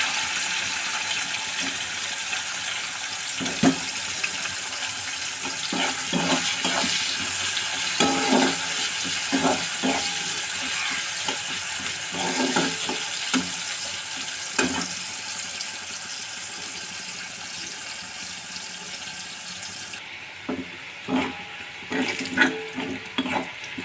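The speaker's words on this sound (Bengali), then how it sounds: "এবার তেল গরম হয়ে গেছে, এবার দেবো পেঁয়াজগুলো।" Onions fry in hot oil in a home kitchen, a loud continuous close-up sizzle broken by scraping and clattering stirring strokes, easing somewhat and growing more spattery toward the end, with no talking.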